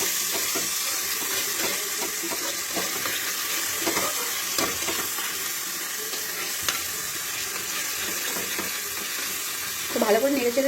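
Ginger, tomato and chilli paste hits hot oil with cumin seeds and sizzles steadily, a continuous frying hiss with faint stirring clinks, ending in a brief louder rattle.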